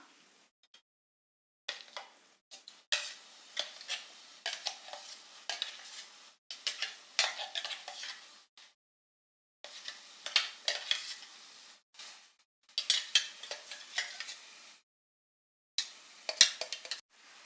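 Apple paste ground with a piece of cinnamon is stirred in a pan on the stove, a utensil scraping and swishing in repeated bursts with short pauses, a soft sizzle underneath, no talking.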